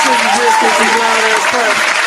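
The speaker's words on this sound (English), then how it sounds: "So we gotta clap it up again." Clapping for a podcast guest, with speaking voices running over it the whole time and clearly forward in the mix.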